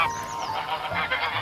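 A flock of geese honks in quick, overlapping calls, moderately close and fairly quiet, used as a short sound effect in a told fairy tale about a goose girl.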